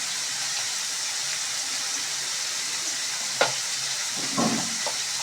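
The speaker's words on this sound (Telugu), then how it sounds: "2 పొట్టి మిరపకాయలు వేసుకుంటాను" Two short red chillies sizzle steadily in hot oil in a pan while gongura curry is being made, a constant loud frying hiss broken by a few brief pops and stirring clatters.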